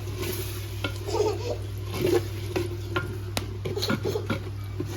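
A spoon scrapes and stirs a biryani mixture in a pot over a low steady hum, with soft repeated clinks and scrapes at an irregular pace, fairly quiet.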